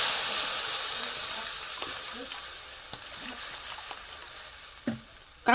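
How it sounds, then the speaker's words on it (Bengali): Water poured into a pan of frying potatoes sets off a loud hissing sizzle that gradually eases, with a few clinks and scrapes of stirring near the end. "এর ভিতরে এবার আমরা জল দিয়ে দেবো"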